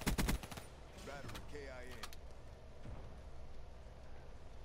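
Kuda submachine gun in a video game firing a short, loud burst of rapid shots at the start, followed by quieter game sounds and brief chatter.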